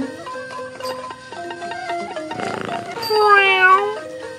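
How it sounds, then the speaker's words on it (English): A cartoon cat gives a drawn-out, wavering meow, loud and clear, following a brief stretch of bright musical tones and a short noisy burst. "A cat!"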